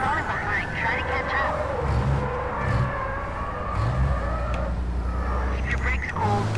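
Racing truck engines in Truck Racing Championship drone and rev steadily, with pitch rising and falling through gear changes while someone talks over the continuous engine noise.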